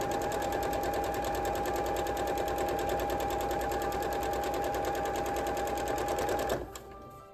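A sewing machine runs fast and steady while stitching quilt block rows together for a holiday quilt, giving a dense rattling drone that lasts several seconds and then stops abruptly, leaving faint room noise.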